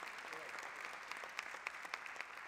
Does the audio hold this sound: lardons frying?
no